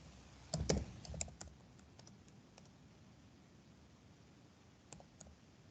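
Quiet keyboard typing, a quick flurry of key clicks at first, then scattered taps over soft background hiss.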